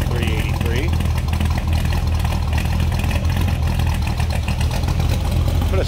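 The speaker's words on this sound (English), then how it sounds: "Mild cam to it, as you can hear. A little rumble coming out of that 383." A 1968 Dodge Polara convertible's 383 V8 with a mild cam idles steadily, a loud, even low rumble with a slight lope that runs without a break, close to the car.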